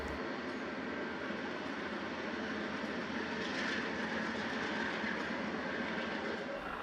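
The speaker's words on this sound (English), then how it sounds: "Then you had the inbound freight trains coming into the yard" An inbound intermodal freight train rolls into a rail yard in Alberta with a broad, steady rumble and wheel noise. The sound holds level and continuous throughout at moderate distance, with no voices.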